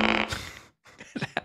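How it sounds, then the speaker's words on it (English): A synthetic fart sound effect from the ElevenLabs V3 AI voice generator gives a loud, buzzy, sputtering burst lasting about half a second. A brief gap follows, then some softer, choppy vocal-like noises. "I don't know what it is about that fart noise, but that one was okay."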